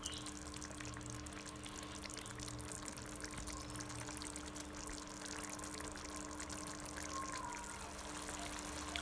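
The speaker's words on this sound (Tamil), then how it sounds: "இது இன்னும் ஒரு 2 மினிட்ஸ் கொதிக்க விடலாம்." Vatha kuzhambu, a thick tamarind gravy, simmering in a pan, a faint steady bubbling and gentle fizzing that continues evenly without pause, with no voices.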